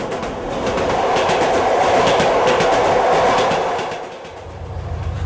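A train at the railway station in Dushanbe, a loud steady rumble and clatter of rolling cars close by that swells, holds, then eases off toward the end.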